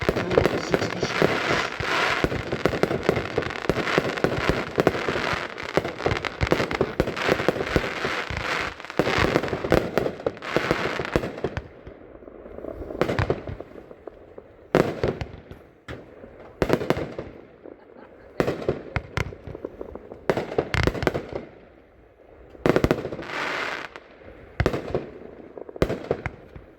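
An American Honey compound firework cake, three sections of 20 shots for 60 in all, fires a long dense barrage of launches and crackling breaks, then thins into spaced booming bursts, loud and continuous with no talking.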